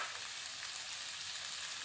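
Beans and peas sauté in a pan with ginger-garlic paste and green chillies, making a soft, steady sizzle that is fairly quiet and continuous, with no talking.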